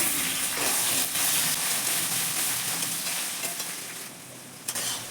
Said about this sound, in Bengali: টমেটোটা আমি ভেজে নিয়েছি